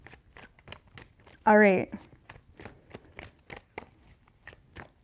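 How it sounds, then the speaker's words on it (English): Tarot cards are shuffled by hand in a quick riffle of crisp, close slaps, with soft flicks and taps before and after and a brief spoken remark. "3 shuffles"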